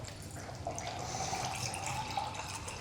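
Water is poured into a 2010 British Army 24-hour ration pack meal pouch, about half a litre. It makes a soft, continuous trickling fill that is fairly faint and steady, with no speech.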